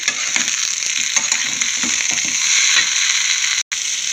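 Potato pieces fry in a pan with turmeric and salt while being stirred, a loud close sizzle broken by repeated scraping stir strokes, with no talking.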